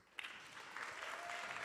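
An audience at a music awards ceremony breaks into applause for fallen soldiers, a soft, distant clatter of many hands that starts abruptly and holds steady.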